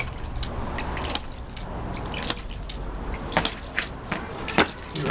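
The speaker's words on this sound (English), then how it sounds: "Here's the pump opening and shutting, swing check valve opening and shutting." A home-built model hydraulic ram pump runs with its swing check valve clacking open and shut in sharp, irregular knocks over a steady watery wash, fed by a half-inch hose outlet.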